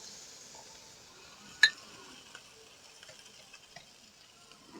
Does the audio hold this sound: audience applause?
no